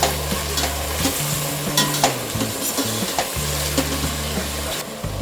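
Green peas and tomatoes stirred and frying in a pot for paneer matar pulao, a steady close sizzle with repeated scraping stir strokes, no talking.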